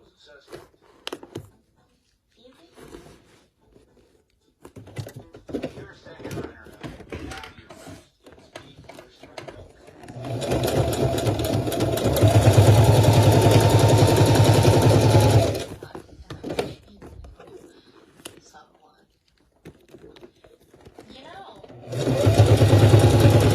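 Sewing machine stitching around eyelet leather pants in short bursts and one long steady run, a close mechanical whir with rapid needle clatter, with quiet handling noises and pauses between runs.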